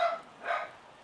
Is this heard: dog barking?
yes